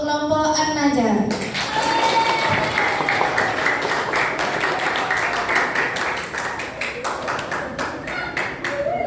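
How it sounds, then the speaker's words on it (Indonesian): A live audience at a Quranic oration (syarhil Quran) competition bursts into dense, loud applause for an Islamic boarding school group, with sharp close claps running throughout after a brief spoken introduction. "Beri tepuk tangan yang gemuruh untuk kelompok An-Najah."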